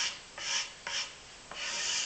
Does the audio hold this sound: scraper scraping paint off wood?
yes